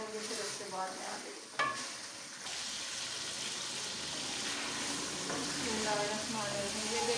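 Potatoes fry in a pan with a continuous crackling sizzle. One sharp clink of a spoon or pan cuts in early, then the frying runs on evenly and fairly close.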